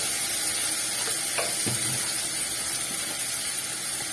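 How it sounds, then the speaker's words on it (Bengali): Potatoes sautéing with turmeric in a pan for aloo dum give a steady, even sizzle with a few soft stirring scrapes mixed in, close and without talk. "এইটাকেও ভালো করে আমি একটুখানি কষিয়ে নেব।"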